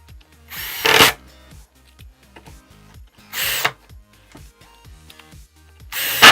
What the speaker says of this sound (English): we'll just screw the flange in